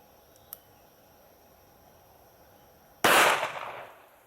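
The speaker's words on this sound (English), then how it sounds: "This is the first time I've fired it aiming down the sights." A small gun shaped like a mobile phone fires once outdoors, aimed down its sights. The crack is loud and sharp, with a brief decaying echo, and a faint click comes a few seconds before it.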